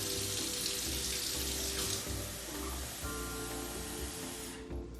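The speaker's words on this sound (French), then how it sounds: "Je vais mettre l'eau du robinet pour cette fois-ci." Tap water runs steadily from a faucet over ice cubes in a blender jar for a candy-and-lemonade flavoured smoothie, a continuous close hiss and splash with a low hum underneath, easing off near the end.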